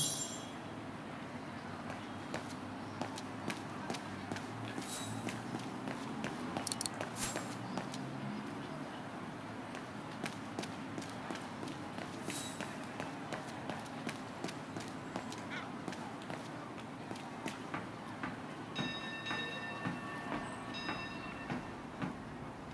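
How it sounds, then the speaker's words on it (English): Tram ride in the Syberia The World Before video game, heard as a steady low rumble of rolling wheels with faint rhythmic rail clicks and occasional metallic ticks throughout. "Let's take the tram back to the guest house."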